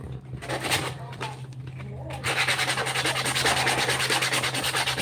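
Hand sanding with cheap sandpaper gives a few separate rough rubbing strokes, then a steady fast back-and-forth scratching that continues close and moderately loud over a low constant hum.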